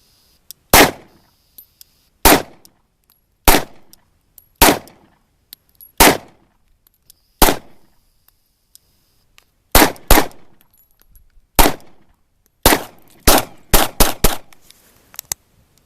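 Glock 17 RTF2 full-size 9mm pistol fired with Federal 9mm ammunition, sharp loud close shots in spaced singles, then quicker strings near the end, each crack trailing a short echo, with no talk over them.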